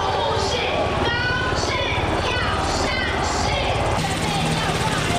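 A military helicopter hovers over a baseball stadium to lower first-pitch guests by rope. Its rotor chop is loud and continuous, with talk over it throughout.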